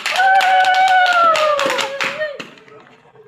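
A church congregation claps in a brisk burst of hand claps while a voice speaks over it, the clapping thinning out toward the end.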